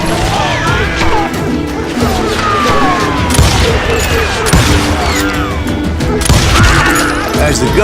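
Gunfire in the Western video game Call of Juarez Gunslinger, a loud chaotic fusillade of shots, crashes and impacts layered under a busy soundtrack, with a voice briefly calling out.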